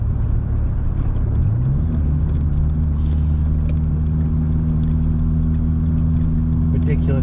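A Renault 21 from the 1980s with an old-style turbo pulls away, its engine rumble climbing in pitch and settling into a steady, loud drone that persists throughout, while someone talks over it.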